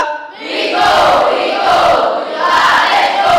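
Junior high students in a 7A classroom shout their class cheer together in a loud, sustained group chant, with two swelling bursts of voices in quick succession.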